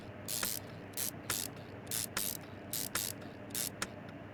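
Bolts being fastened on a chrome engine in the Car Mechanic Simulator 2021 video game, heard as a series of short, crisp ratcheting bursts, about eight quick mechanical zips spaced evenly over a low background hum.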